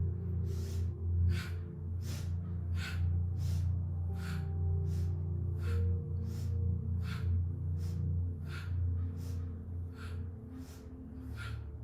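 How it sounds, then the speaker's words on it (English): Steady rhythmic breaths repeat about every three-quarters of a second during a Kundalini yoga kriya, each a sharp, close, breathy puff over a low continuous hum, with no talk. "We're breathing with our bodies, breathing with the movement."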